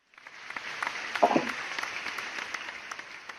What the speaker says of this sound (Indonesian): Mari kita beri aplaus untuk para penyaji dari PT Duta Pertiwi Tbk.